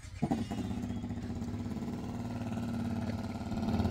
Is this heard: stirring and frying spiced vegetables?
no